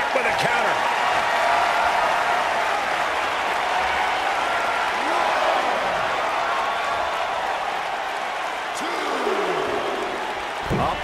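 Steady, loud arena crowd cheering and applauding throughout a WWE 2K24 women's heavyweight championship wrestling match, a dense continuous roar with scattered impacts and game sounds mixed in.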